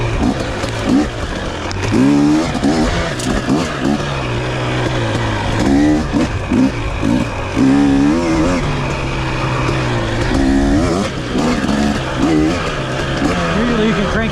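A 2023 KTM 250 XC two-stroke dirt bike on a rough road shifts down to second gear, its engine note dropping and then revving up again in uneven bursts, close and loud, with the rider's voice over it at times.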